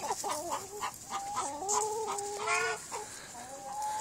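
Backyard chickens in a coop cluck and squawk in a string of short, rising calls, fairly close and clear over a quiet background.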